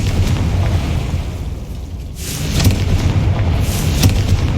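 Confringo spell blasts in Hogwarts Legacy, a sustained roaring boom with a couple of sharper bursts toward the end, loud and close with no talking.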